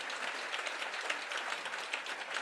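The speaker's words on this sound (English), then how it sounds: "Shall we give Rayne yet another round of applause?" Audience applause at a live talk event in Singapore, a steady dense wash of many hands clapping at even loudness throughout, with no speech over it.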